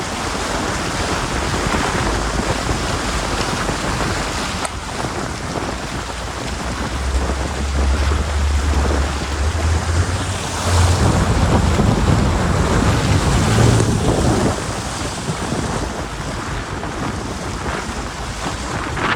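A river rushes near Tadadege, Manigong, close to the China border, in a loud, unbroken roar that holds steady, swelling slightly midway, with no voices.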